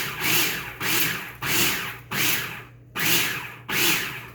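A blender pulsing ingredients with red wine vinegar in home cooking, six short loud motor bursts in a regular rhythm, each cutting off abruptly before the next, with no talking.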